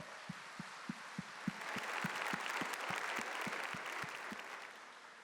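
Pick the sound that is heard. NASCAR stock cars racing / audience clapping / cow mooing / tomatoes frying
audience clapping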